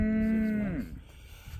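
A single cow moos during a cattle drive on a winter pasture, one loud, close, sustained low call that slides down in pitch and fades out, with no talk.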